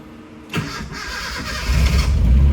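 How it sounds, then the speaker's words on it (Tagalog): A car engine left unused for months cranks briefly, catches after about half a second and settles into a rising, loud idle rumble, close to the listener and without talk. "Buwan na itong hindi umaandar. Tingnan natin. Oy, may battery pa siya. Start tayo."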